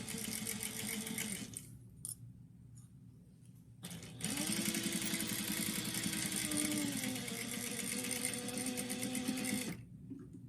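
Sewing machine stitching a seam on fabric, running in short bursts with brief pauses and reversals for back stitches, then a longer steady whirring run that stops abruptly, close and clear with no talking.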